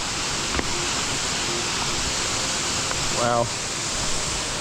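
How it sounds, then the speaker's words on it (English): A large waterfall in Bali gives a steady, loud broadband roar that fills the whole clip, with a brief spoken exclamation partway through. "Oh, this waterfall is huge."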